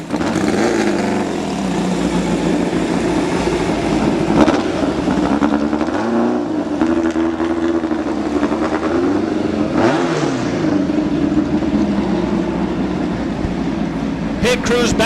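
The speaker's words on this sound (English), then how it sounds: "Both those machines burning out to about the 150-foot mark." Two Pro Stock drag racing cars roar through burnouts at a drag strip, a loud continuous engine drone with shifting revs running underneath an announcer's commentary throughout.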